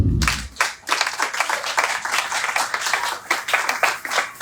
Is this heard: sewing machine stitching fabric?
no